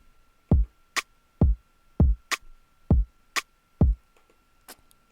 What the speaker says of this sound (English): So, but with the snap, it sounds like this.